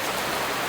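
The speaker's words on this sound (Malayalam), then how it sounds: "രാത്രിയും ഇപ്പോൾ നല്ല രീതിക്ക് മഴ പെയ്യുന്നുണ്ട്" Steady rain falling outdoors at night, a continuous dense hiss with no breaks, heard alone without any talking.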